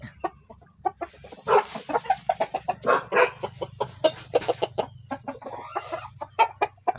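A young fighting rooster, penned in a garden, clucks in a run of short, sharp calls with brief pauses, close by and fairly clear against a low steady hum.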